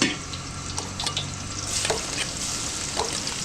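Garlic frying for pancit in a restaurant kitchen: a steady loud sizzle with scraping stirring over it, continuous throughout, no voices.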